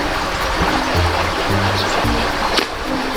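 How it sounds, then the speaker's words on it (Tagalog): Steady broadband rush of water pouring from a fish pond into a swollen river, continuous and fairly loud with a low rumbling undertone and no talking. "Yung tubig po sa fish pond ay pumupunta po sa ilog"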